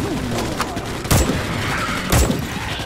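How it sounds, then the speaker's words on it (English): A sniper rifle fires at bugs in Starship Troopers: Extermination, two loud sharp shots about a second apart, each with a short booming tail, over steady background game noise and a voice talking. "I got a sniper rifle here. I'm no-scoping bugs."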